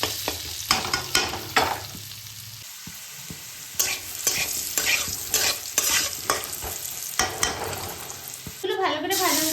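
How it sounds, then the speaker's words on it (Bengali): Garlic frying in oil with salt and turmeric in a pan, a close crackling sizzle broken by repeated rhythmic scraping strokes of a spatula, with a brief clatter near the end. "রসুন নুন হলুদ দিয়ে লাল লাল করে ভেজে নেব।"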